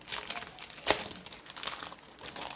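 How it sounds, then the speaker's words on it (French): Plastic wrapping around a packet of tampons is crinkled and pulled open close up, a steady rustling crackle with a few sharper crunches, no one talking. "Je vais déballer pour voir."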